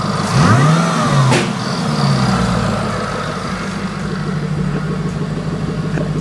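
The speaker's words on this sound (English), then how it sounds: "these engines are just a touch noisy in general" A rebuilt, wrecked 700+ hp Jaguar XFR engine turns over and catches on its first startup, revs up sharply once, then settles into a loud, rough idle close by.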